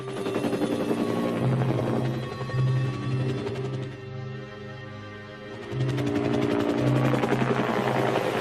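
A helicopter's rotor thumps steadily and loudly with a rhythmic beat during the fall of Saigon, as helicopters land on ships, briefly easing in the middle before returning at full strength.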